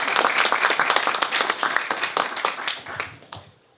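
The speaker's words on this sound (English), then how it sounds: "please standing so you could get a round of applause" Audience at a panel discussion exhibit opening in San Leandro gives a round of applause, a dense burst of clapping that is loud at first and gradually thins out over a few seconds.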